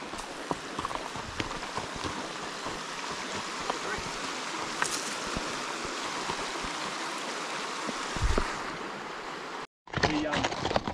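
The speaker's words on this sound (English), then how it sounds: "Got a small little creek crossing." Horses splashing through a small creek crossing in New Zealand backcountry, a steady wash of flowing water and hoof noise close by, with a brief louder splash near the end.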